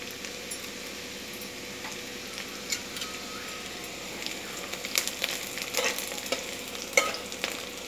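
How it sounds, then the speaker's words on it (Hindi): Spices and curry leaves crackle and sizzle in hot oil as a tadka, a soft steady fry that grows busier with sharp pops and stirring scrapes toward the end, close and fairly quiet, no voices. "ये हमारा सब तड़क रहा है इसमें। अब हम इसमें अपनी करी लीव डाल देते हैं।"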